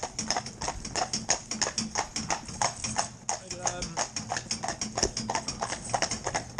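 Hooves of a big cob horse clip-clop in a steady, even rhythm, close and clear, as he moves freely over hard ground, with a brief pause midway and a voice faintly in the background.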